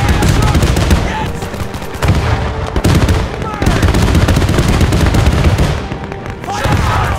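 Dense gunfire in Men of War 2 bursts out in rapid, loud, overlapping volleys and bangs, near and continuous with short pauses, mixed with a voice speaking.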